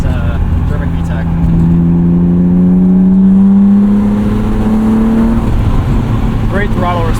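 A 1998 BMW M3 E36 engine with 250,000 miles revs up, its droning tone climbing steadily in pitch past about 5,300 rpm before easing off, loud and close.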